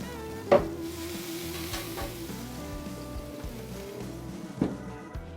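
Elk burgers sizzle on a smoker outdoors, giving a steady frying hiss with a couple of sharper knocks, close up and with no voices.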